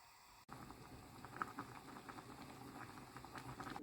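Tomatoes boiling on a stove to reduce, a soft, steady bubbling and popping patter, faint and close, continuing evenly with no voices.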